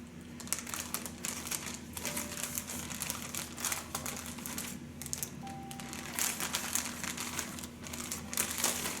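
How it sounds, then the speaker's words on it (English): Close, continuous crinkling and rustling of a plastic bag, with irregular crackles and crunches as it is handled, no voices. "And we'll stick them in this plastic bag."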